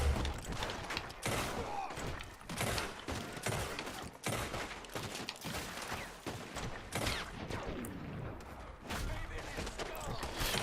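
Gunfire in Red Dead Redemption 2 comes as a rapid string of sharp, loud shots and thumps in irregular bursts, close and dense, with no clear talk over it.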